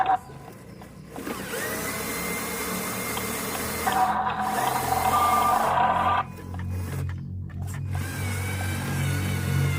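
A small RC Canter model truck's electric motor whines and strains as it tries to push through mud, its pitch shifting in steady bursts between short pauses, close and fairly loud.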